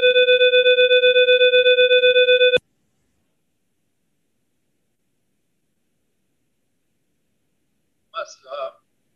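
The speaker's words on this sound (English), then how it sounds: "we lost your sound because of the alarm system that was played" Venice flood alarm system sounding a steady multi-tone electronic signal, loud and continuous for under three seconds before cutting off abruptly, followed by silence and a faint burst of voice near the end.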